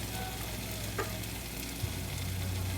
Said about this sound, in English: So just keep mixing it for another couple minutes.